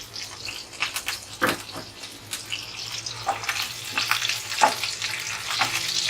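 Garlic, green chillies and ginger sizzle in desi ghee for a tempering, a steady close frying hiss broken by scraping stirs and a few sharper crackles, with no talk.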